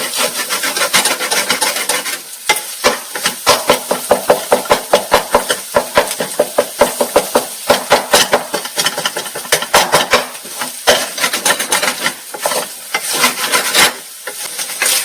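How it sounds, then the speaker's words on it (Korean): Rapid scraping and clinking of a utensil stirring scrambled eggs in a frying pan, steady and close, with a busy sizzling rasp throughout and no talking. "그리고 후추랑 같이 그래서 계속 스크램블을 만들어"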